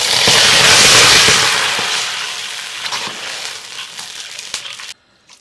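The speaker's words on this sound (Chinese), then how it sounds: "加入开水" Boiling water poured into a wok of rock sugar caramelized in oil gives a loud, violent hiss that sizzles and crackles, fades over several seconds and stops abruptly.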